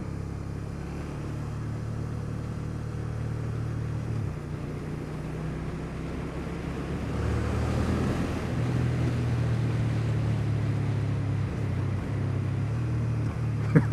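A 2012 Suzuki SFV650 Gladius motorcycle is ridden at steady speed, its engine drone low and continuous under heavy wind rush, rising slightly midway with no talk.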